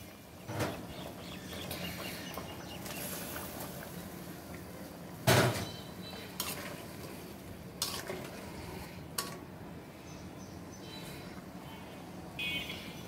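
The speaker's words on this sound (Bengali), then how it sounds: "এখন আমি ভাজা মাছগুলো দিয়ে দিব।" Pieces of fried singi fish going into a pot of thin simmering fish curry, with a steady low bubbling bed broken by several sharp metallic clanks of spoon and pot.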